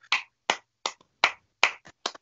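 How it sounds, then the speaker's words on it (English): Seven sharp hand claps ring out in an uneven rhythm, close and fairly loud, with no voices. "We clap all our guests."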